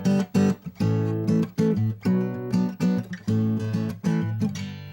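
An instrument plays a flat six, flat seven, one chord progression, with chords struck in short, repeated bursts that build to a sustained final chord, clear and moderately loud with no talking.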